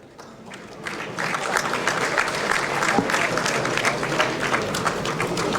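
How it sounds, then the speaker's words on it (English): Crowd applause for a sponsor representative at an engineers' jubilee night and AGM, starting quietly and swelling into steady, fairly distant clapping that holds to the end. "I think you can give them a bigger round of applause"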